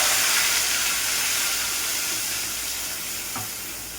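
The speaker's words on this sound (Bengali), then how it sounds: "তারপর দিয়ে দেবো এই যে পেঁয়াজ বেটে রেখেছি" Ground onion paste sizzling in hot oil with whole garam masala, a steady close-up frying hiss that eases slightly toward the end, with no talking.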